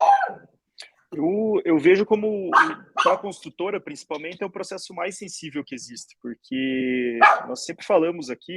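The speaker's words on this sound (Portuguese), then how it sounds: "já tem um cachorro latindo aí" A dog barks in the background during an online meeting, with short yaps partly masked by someone speaking continuously in the foreground.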